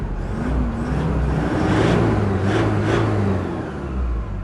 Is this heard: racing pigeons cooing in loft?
no